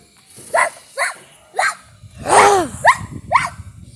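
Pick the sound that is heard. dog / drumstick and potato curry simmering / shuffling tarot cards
dog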